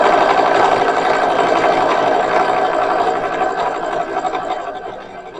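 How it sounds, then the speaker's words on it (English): A sewing machine stitches fabric for a 1920s-style hat and handbag, a steady fast close-up whir that keeps on for several seconds, then slows and fades as it winds down. "Back to sewing."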